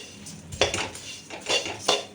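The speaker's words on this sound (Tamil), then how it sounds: "அவிலை போட்டு வறுக்க போகிறோம்." Flattened rice (aval) being roasted in a dry pan, heard as a series of close metallic scrapes and clinks from a spoon stirring against the pan in uneven strokes.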